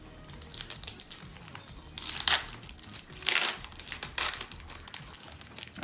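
Scissors cut and crinkle through the plastic wrapper of a 1995-96 Topps basketball card pack, a close run of rustling and crackling with louder tearing bursts.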